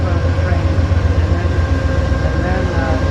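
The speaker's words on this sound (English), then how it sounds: "yeah, this is an older train." Steady rumble and rattle inside an older passenger train traveling from Chicago to Los Angeles, a loud continuous drone with faint rhythmic clatter.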